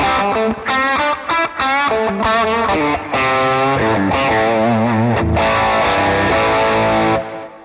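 Distorted electric guitar through a Valeton GP-200X multi-effects processor, playing a sustained chordal riff with reduced reverb, notes stopping fairly dry, loud and close throughout.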